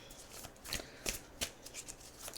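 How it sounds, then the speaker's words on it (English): Light Seers Tarot cards being shuffled by hand, a series of soft, papery riffles and slides in quick bursts, close and fairly quiet, with no talking. "I've already given them a good shuffle."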